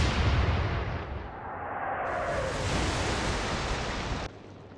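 Naval guns firing in the Atlantic Fleet warship game: a heavy rumbling boom that rolls on for several seconds like a roaring blast, then drops off abruptly to a lower wash.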